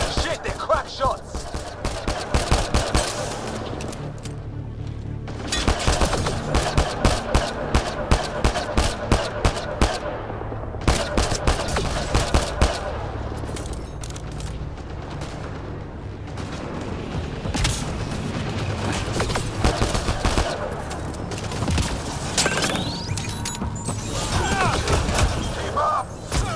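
Rapid gunfire bursts and heavy impacts from a firefight in the sci-fi shooter Mass Effect Andromeda, loud and dense, repeating in rattling volleys with booms throughout and voices talking over the chaos.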